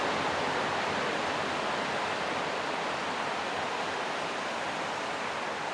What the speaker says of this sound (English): Sitting here, looking at the beach, at the waves, listening to those waves.